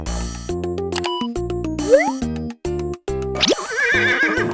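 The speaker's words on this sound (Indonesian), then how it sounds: "horse." A horse neighs and whinnies loudly and close, in a series of sharp tonal calls ending in a rising whinny.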